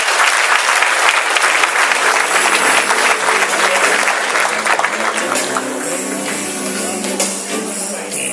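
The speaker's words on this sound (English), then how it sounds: "let us play the role of cheerful givers and offering up a substantial round of applause" Sustained applause from a gala audience honoring an award recipient for community service, loud and steady for the whole stretch, thinning slightly toward the end.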